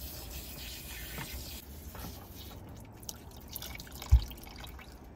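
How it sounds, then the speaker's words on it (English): Water from a half-gallon pump sprayer dripping and trickling while hair is rinsed inside a van, soft irregular drips over a faint background wash, with one sharper drop near the end. "this is a 1/2 gallon sprayer"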